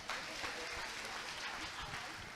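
A church congregation claps in a brief, faint burst of steady applause, with some voices mixed in.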